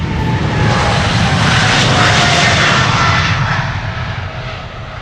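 A departing aircraft at Amsterdam Schiphol Airport gives a loud, steady engine roar that dips slightly toward the end, with no voices over it.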